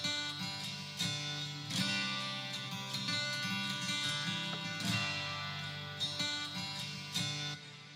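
Double-tracked acoustic guitar strums through a worship song chorus in a full mix, bright rhythmic chords with regular accents, fairly loud and continuous.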